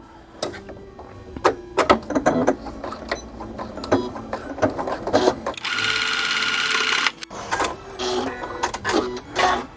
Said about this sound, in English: And then I just pinch it, flip it over, and sew on the line.